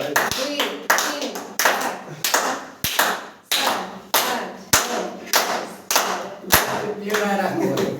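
Rhythmic group clapping at a family birthday party at home, repeated bursts of close, loud hand claps with sharp taps marking a beat, while people keep talking and calling out over it.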